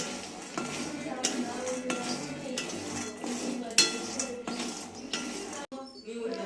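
Peanuts being roasted and stirred in a kadai for making chikki, with steady scraping and clinking of a spoon against the pan, close and continuous, ending in a brief pause and softer rattling.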